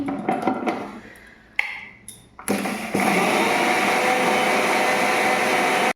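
Electric spice grinder whirring as spices are ground for a restaurant-style palak paneer, a few short clicks and bursts before settling into a loud, steady high-pitched spin.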